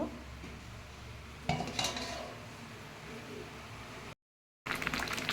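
A metal lid set down on a pot of semolina cooking with carrots in water, a bright clatter of cookware after a stretch of quiet kitchen background, with a brief dropout and another clink at the end.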